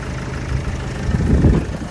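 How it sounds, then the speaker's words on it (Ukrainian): A 2010 Opel Vivaro van's 2.0-litre 115 hp engine idles steadily nearby, a low, even rumble with no other sounds. "Я думаю, тут одразу чути, як працює моторчик."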